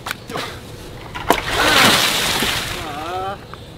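Water balloons burst and splash in a brief wet splatter that swells and fades, with voices talking around it.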